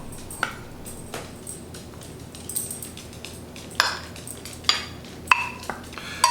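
Vegetable stew is ladled from a pot into bowls, with sparse metallic clinks and taps of ladle against pot and dishes, plus soft wet sloshes, near and moderately quiet without talk.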